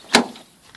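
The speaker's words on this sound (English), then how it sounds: "Let's just open the door." An old MK2 car door opens with a single short clunk and latch release, followed by faint rustling.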